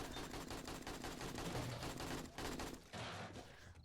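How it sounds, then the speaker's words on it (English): Rapid bursts of gunfire from the zombie survival game 7 Days to Die crackle in quick repeated volleys, dense and sharp, with a brief gap before another burst near the end. "Suppose my gunshot drew in the night zombies"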